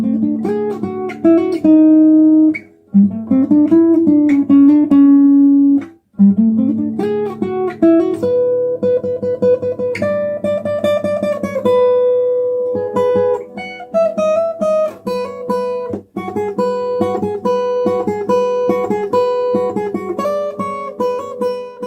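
Acoustic guitar plays a song, a steady run of strummed and picked chords with a few short pauses, close and clear for over twenty seconds with no talking.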